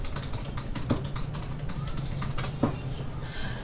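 Someone types a MySQL password on a computer keyboard, with quick, close key clicks in an uneven patter and a couple of sharper, heavier presses.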